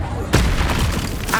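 A Confringo blasting spell in the game Hogwarts Legacy bursts out as a sudden loud boom and crackling blast, followed by a brief rumbling tail and a second smaller burst near the end.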